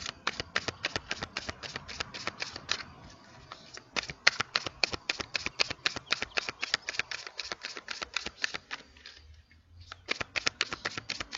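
Tarot cards being shuffled and drawn, a quick dense run of close papery slaps and flicks in a steady rhythm with one short pause near the end, no talking.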